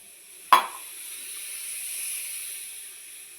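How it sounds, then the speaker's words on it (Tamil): Milk poured into a hot pan gives a single sharp sizzle burst, then a steady soft hiss of steam that lingers and slowly fades, with no voices. "இந்த பாலை இதில் சேர்த்துடணும்"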